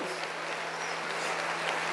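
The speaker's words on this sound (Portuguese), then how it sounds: "Pode aplaudir, ele merece toda a honra, toda a glória e louvor." A church congregation applauds in steady, continuous clapping for two seconds, an even wash of sound with a low hum underneath and no distinct voices.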